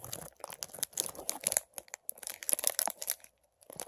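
Scissors slicing and tearing through packaging material in several short, uneven bursts of crinkling and snipping, close and fairly quiet, with brief pauses between cuts.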